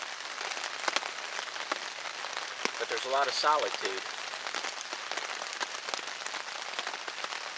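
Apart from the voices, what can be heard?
rain falling in the woods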